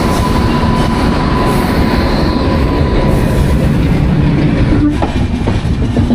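Train pulling in at Mangaon station on the Konkan route, loud continuous rumble of rolling railcars with clattering wheels and a faint squeal, close by and without talk.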